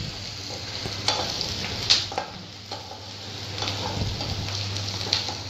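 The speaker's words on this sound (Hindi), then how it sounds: "और ये लहसुन है, सॉटे करेंगे जिससे कि ये मुरझा जाए और गोल्डन ब्राउन कलर का हो जाए" Garlic sautés in a frying pan for a spicy pointed gourd (parwal) curry, a steady soft sizzle with occasional stirring scrapes and clicks of a spoon against the pan, no voices.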